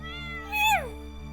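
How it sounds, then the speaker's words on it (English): A stray cat in Stardew Valley gives a single clear, rising-then-falling meow, short and close, over a quiet steady background tone. "You seen this cat here?"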